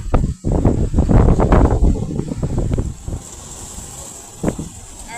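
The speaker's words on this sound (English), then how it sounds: "bear with me because of the wind" Strong wind gusts buffet the microphone outdoors while soil is being gathered for foraged wild onions, with loud rumbling bursts that ease into a steadier, softer blowing.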